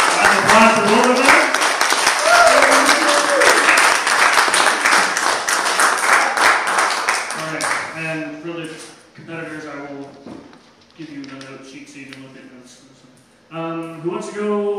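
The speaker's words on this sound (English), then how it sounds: "Round of applause for both of them." Audience applause for two performers at a live comedy and open mic show: loud, dense clapping for about seven seconds fades out, after which someone talks over a quiet room.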